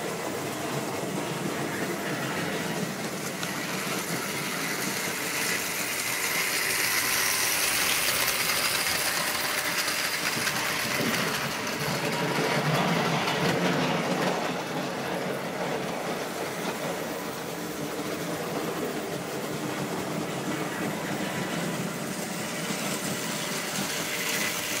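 A vintage Märklin model railway fleet, some locomotives fifty years old and rare, runs continuously, giving a steady rolling rumble with faint clicking of wheels over track joints and no talk.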